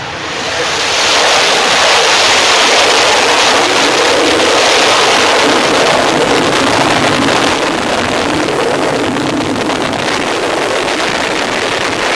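Rocket engines at ignition and liftoff give a loud, sustained broadband roar that builds within the first second and holds steady, with faint voices beneath it.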